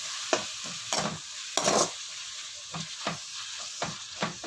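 Chopped tomatoes fry in a hot pan with a steady sizzle, broken by repeated scraping bursts of stirring at an uneven rhythm, close and fairly loud, with no talking.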